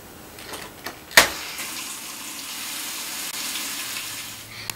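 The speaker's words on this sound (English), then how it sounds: "Once the wash basin is full of water, add some detergent and let the washer do the rest for you." A clothes washer fills its basin with water on a hot wash, cold rinse regular cycle, a steady rushing hiss that starts after a sharp click and runs on evenly at moderate level.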